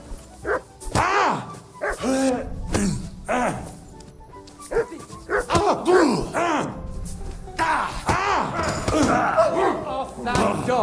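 A dog in Kingdom Come: Deliverance II barks and growls over and over at close range, mixed with shouting and groans from people fighting nearby.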